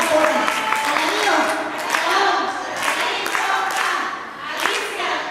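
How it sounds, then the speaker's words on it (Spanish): An audience at a sales award ceremony applauds a top saleswoman, with loud, continuous clapping and scattered sharp claps mixed with cheering and voices throughout. "Un fuerte aplauso y le vamos a dar"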